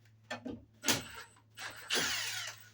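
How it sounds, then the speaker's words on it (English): A power drill with a faulty trigger whirs in several short bursts, its motor winding on briefly after each release. The drill is close and loud, and no one talks. "It keeps spinning after I hit the trigger."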